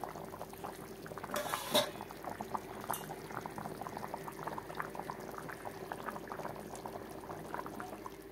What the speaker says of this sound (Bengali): এখন একটা পাত্রতে ঢেলে নেব।